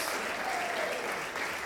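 A congregation applauding during a church sermon at an autumn retreat: a short burst of steady, dense clapping from many hands filling the room.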